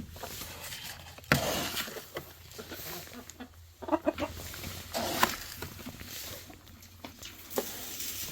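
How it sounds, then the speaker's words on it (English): Chickens cluck on a Montana farm in scattered bursts of calls at moderate distance, with soft rustling between them and no talk. "Chickies."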